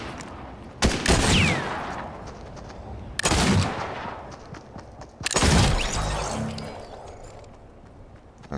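Marksman pistol gunfire in the Fortnite video game: three loud separate shots spaced a couple of seconds apart, each trailing off, with a faint game background between them.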